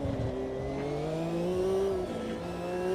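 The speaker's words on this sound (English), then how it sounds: "especially when the turbo spools up properly" A turbocharged race car engine in a sim racing game drones steadily and close with rising, shifting tones as revs build, with a faint whine over it throughout and no speech.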